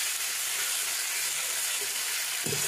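Fish curry masala being stirred in a hot pan for rohu fish curry, giving a steady broadband sizzle with soft scraping, ending in a brief louder clatter near the close.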